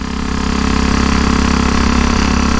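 A 1934 Velocette KTT motorcycle engine runs steadily and loud throughout, a continuous close mechanical drone with a fast even pulsing and no talk over it.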